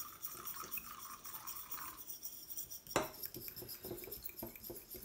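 Homemade anti-aging face cream with mirabelle and bergamot being stirred to emulsify, quiet scraping and rubbing of a utensil in a slippery bowl, with a sharper clink midway and light tapping afterward.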